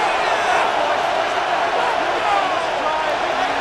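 A stadium crowd in the Madden NFL 26 video game, during a Chicago Bears versus Houston Texans game, keeps up a steady, dense roar that swells slightly without letting up.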